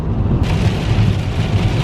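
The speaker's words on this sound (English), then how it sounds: "It is absolutely peeing it down." Heavy rain pouring down at a Bulgarian beach resort, a dense, loud continuous hiss with a low wind-buffeted rumble, no voices.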